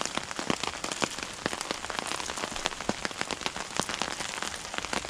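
Heavy rain pours onto a tarp shelter outdoors near Isumi, Chiba, making a dense, steady patter with sharp individual drop hits throughout.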